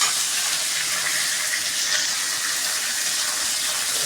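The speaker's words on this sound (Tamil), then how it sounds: "வெண்டைக்காவை நல்லா வதக்கி விட்டுக்கோங்க." Okra sautéing in a pan gives a steady, even sizzle that runs evenly throughout at a moderate level, with no talking over it.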